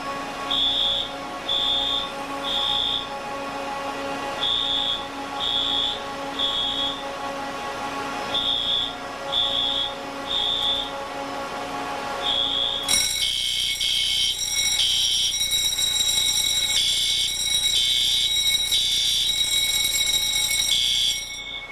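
A smoke detector fire alarm in a server room beeps in repeated shrill bursts, then a second detector's denser alarm pattern joins and continues loudly to the end.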